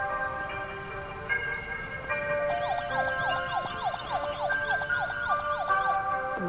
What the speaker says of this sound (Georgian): პოლიციის ხმა